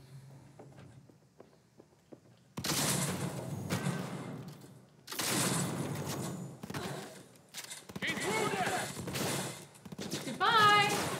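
Shotgun gunfire in the video game Cyberpunk 2077, several loud bursts in quick succession after a quiet stretch, each with a ringing tail, amid hectic game sounds.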